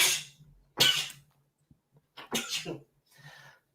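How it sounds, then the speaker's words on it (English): Two sharp sneezes burst out close to the microphone, followed by a softer third sneeze-like exhalation, with faint low background hum between them and no talking. "I was sneezing."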